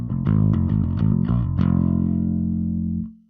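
A metal bass run through a Fractal AX8 patch with graphic EQ, giving a loud, distorted, growling low tone: a quick run of picked notes, then a sustained note that rings out and cuts off abruptly.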